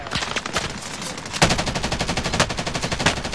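Rapid automatic gunfire in a Call of Duty match, loud and close, with a short burst followed by a sustained rattling stream of shots and no talking.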